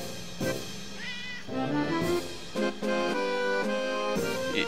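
A cat in the video game Bunker meows several times over a game music bed, the short mewing calls rising and falling at moderate loudness.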